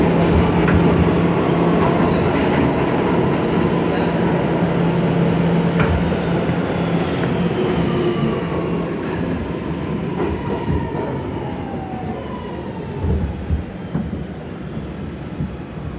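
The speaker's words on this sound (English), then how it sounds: "This is a Queens-bound F local train." Onboard rumble of an R211 F local subway train in New York, a loud, steady roar of wheels and motors with faint squealing tones drifting through, fading slightly toward the end with a few clanks.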